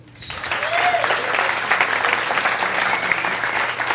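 Steady, dense audience applause at a stage hypnosis show as a volunteer comes up, rising quickly and holding loud and even for several seconds.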